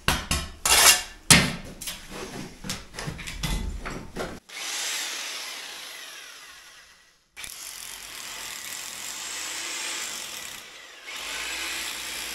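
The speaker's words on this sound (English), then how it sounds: "I'll follow the rest of the marks for the ties, which I'll drill in every other course." A drill bores holes for wall ties into brickwork courses, with clattering knocks of tools and masonry first, then two long sustained grinding runs separated by a brief pause.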